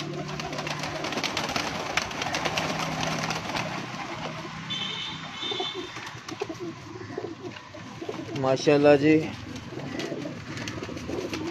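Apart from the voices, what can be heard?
white pearl-spotted pigeon cooing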